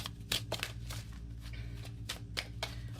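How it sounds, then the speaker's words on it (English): Oracle cards being shuffled by hand at close range, a run of quick crisp riffling bursts repeating every half second or so over a low steady hum, with no talking. "Let me go ahead and do that in the raw"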